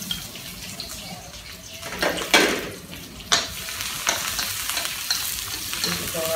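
Sausage and shiitake mushrooms sautéing in a pan with ginger, a steady sizzle broken by several louder stirring scrapes and clatters, close by.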